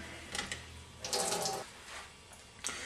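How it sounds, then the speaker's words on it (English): Water drains off a block of packaged tofu into a sink, a close splashing pour that comes in several uneven bursts with a louder gush in the middle, and no voices. "we want to pour off the water"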